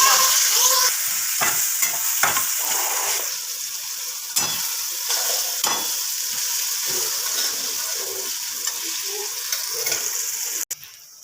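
Onion and tomato frying in a pan for chicken dum biryani, loud steady sizzle with occasional stirring scrapes and bursts, close by, the sizzling easing slightly over time.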